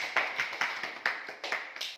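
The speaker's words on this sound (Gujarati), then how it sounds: "તાળી બજાવો તાળીઓ." A few people clap in a quick, steady rhythm, about eight sharp claps in two seconds, during a ball goal challenge game.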